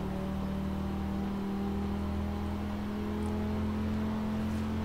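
A car drives along in Forza Horizon 4 at night, its engine a constant droning hum with a steady low tone and road noise, holding even without clear revs throughout.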